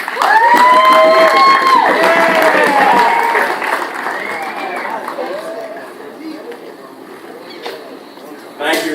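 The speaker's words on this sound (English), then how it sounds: "please give a warm welcome applaud for Dr. Lee" At a university ribbon-cutting ceremony unveiling a new stage, a crowd applauds and cheers loudly, with shouting voices and chatter at first, then the clapping gradually fades to a thinner patter.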